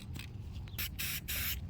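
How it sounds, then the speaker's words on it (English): Rust-Oleum spray paint can hissing in three bursts, a short one and two longer sustained blasts, loud and close with brief pauses between. "All right, I'm taking some spray paint."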